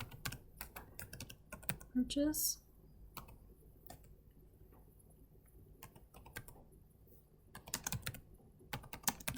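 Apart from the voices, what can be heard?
typing on computer keyboard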